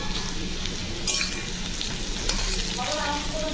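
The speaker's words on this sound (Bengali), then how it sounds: "এখানে আলুটা একটু নেড়ে দিচ্ছি আলুটা পুড়ে যাচ্ছে তলায় দেখো" Potatoes frying in a home kitchen pan as they are stirred, a steady close sizzle with a brief scraping burst partway through, no voices.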